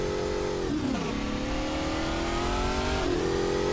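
A car engine from the city-building game Workers & Resources hums steadily as the vehicle drives, its pitch dipping briefly twice as it slows and picks up again.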